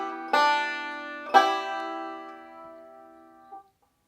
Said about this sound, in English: this is going to be a forward roll and then a single note with a pinch at the end of it